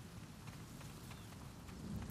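Rain pours during a thunderstorm in the video game Uncharted 4, a faint, steady hiss over low rumbling, with no voices.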